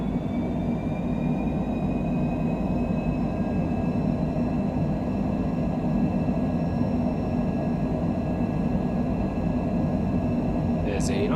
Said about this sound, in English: So we'll power up all the way to full throttle.